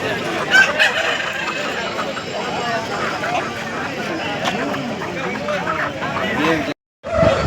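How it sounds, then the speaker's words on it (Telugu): Chickens cluck and squawk amid the bustle of a weekly hen market, with busy crowd chatter and voices talking throughout, the sound cutting out briefly near the end. "మీరు చూస్తున్న ఈ 2 పెట్టకోట్లు"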